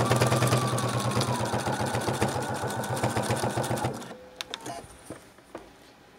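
A sewing machine stitches binding onto a fabric face mask case, its rapid even motor chatter running steadily for about four seconds before stopping, followed by a few scattered light clicks and handling noises.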